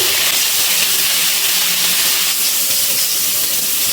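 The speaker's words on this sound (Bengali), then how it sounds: "এবার গ্যাসের ফ্লেমটা হাইতে দিয়ে ব্রোকলিগুলো ভেজে নিচ্ছি" A steady, loud sizzling hiss of broccoli frying in hot oil over a high gas flame, continuous throughout with no voices.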